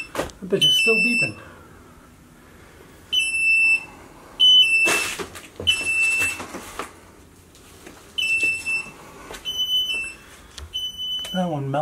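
A fire-damaged smoke detector in a wrecked rental home keeps sounding, loud high-pitched beep bursts repeating every second or two, with clatter and voices around it.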